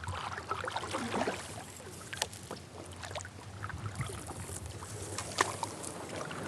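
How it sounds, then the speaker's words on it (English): A kayak paddles through shallow lake water, soft intermittent splashes and drips from the paddle strokes over a faint low hum, close and fairly quiet. "I'm gonna go paddle through this shallow stuff real quick."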